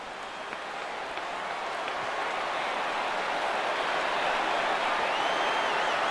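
Stadium crowd in MLB 15 The Show, Miami Marlins at Colorado, rising to a full-count pitch: a broad, steady roar and cheer that slowly builds in loudness, with no talk over it.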